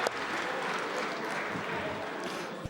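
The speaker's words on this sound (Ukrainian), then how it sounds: "Слуги аплодували, але жиденько цього разу" Members of the Ukrainian parliament give brief, modest applause in the chamber, a dense wash of clapping with crowd murmur mixed in, steady in level for a few seconds.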